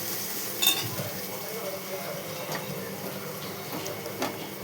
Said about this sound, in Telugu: ఇట్లా అల్లం పేస్ట్ వేసుకొని బాగా కలపాలి.